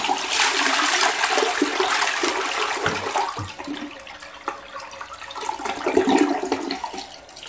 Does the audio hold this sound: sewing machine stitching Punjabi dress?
no